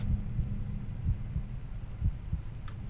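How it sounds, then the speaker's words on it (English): Slow, muffled heartbeat thuds from the horror shooter game F.E.A.R., pulsing steadily at low volume over a dark ambient hum, with no talk. "You can still hear the heartbeat"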